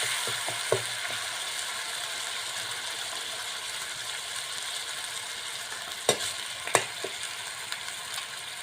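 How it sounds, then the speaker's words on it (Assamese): Haritaki (xilikha) fries in a pan as the base for a fish curry. A steady hissing sizzle runs throughout, broken by a few sharp clicks of a utensil stirring against the pan. "এতিয়া অকণমান ভাজি লওঁ।"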